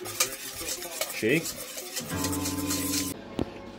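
Eggs, sugar and crushed biscuits being stirred together in a bowl for a cocoa-butter mixture, a steady scraping and clinking of utensil against the bowl close by, with brief talk over it.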